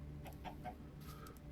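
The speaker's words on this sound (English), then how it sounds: "Oh, hello, chickens." Chickens in the TerraFirmaCraft video game give a few short, faint clucks in quick succession over a soft background hum.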